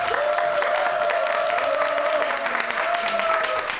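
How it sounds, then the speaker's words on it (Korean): Men in a TV science-program studio applaud warmly, a steady, dense patter of clapping that lasts throughout, with a sustained tone running beneath it. "여기 남자분들이 아주 열렬한 박수로 환영을 해주십니다"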